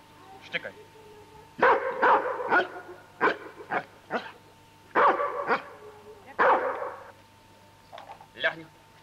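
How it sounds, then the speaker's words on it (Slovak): A dog barks repeatedly on a handler's command at a Slovak dog-sport championship event at Smrekovica, with several loud, close barks in irregular bursts over a low steady hum. "Štekaj."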